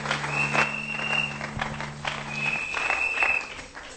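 A church congregation applauding in praise, with a steady wash of clapping throughout, loud and close, while a sustained tone and a few high whistles sound over it.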